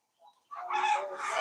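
Egyptian Fayoumi chickens cluck and call at a small farm, a brief faint peep first, then a fuller, close run of hen vocalizations that rises toward the end.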